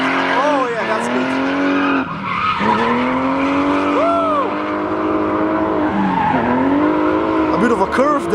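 Renault Clio RS 172 drifting through a curve, its tires squealing in long rising and falling screeches over a steady loud engine roar, close to the microphone, with excited voices talking over it.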